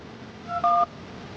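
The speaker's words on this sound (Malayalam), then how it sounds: "കുറച്ചു നേരം കാത്തിരുന്ന ശേഷം അഭിനവ് ഫോൺ എടുത്ത് ആരെയോ വിളിച്ചു" A telephone is dialed, giving two short touch-tone beeps, a quick one followed by a slightly longer one, heard alone over a faint background hiss.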